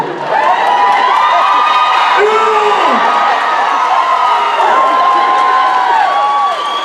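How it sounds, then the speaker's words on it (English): A convention panel audience cheers and applauds loudly and continuously, with whoops and high shouts rising and falling above a dense, sustained bed of clapping. "These are discerning people that are applauding right now."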